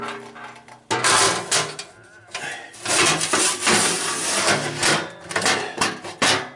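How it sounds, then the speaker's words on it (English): A metal pan is shoved into a Treemont coal stove with loud, close scraping and clattering of metal on metal, in several rough bursts with brief pauses. "I'll put the pan in"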